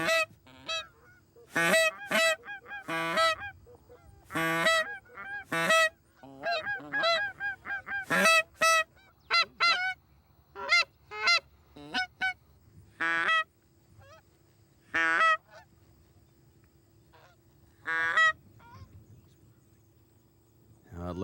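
Flocks of geese honk overhead in repeated bursts of loud, clustered calls with short gaps between them, ringing out clearly over a quiet background during a goose hunt.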